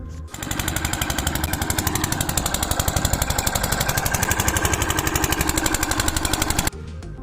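A Marshal water pump engine runs close and loud in a fast, steady chugging rhythm for several seconds, then cuts off abruptly near the end.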